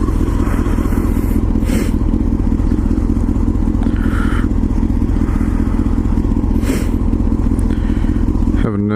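A motorcycle cruises on a ride near Kansas City, Missouri, its engine droning steadily and loudly throughout with heavy wind rush and occasional clatter.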